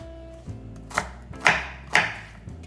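Kitchen knife chopping a vegetable into chunks on a cutting board, four or five distinct close thuds about half a second apart, crisp and moderately loud, no talk.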